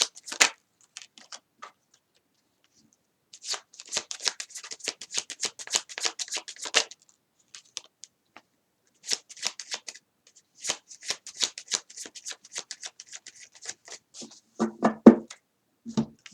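Tarot cards are shuffled by hand in bursts of rapid, crisp riffling clicks, close and fairly loud, separated by quiet pauses with occasional light handling noises.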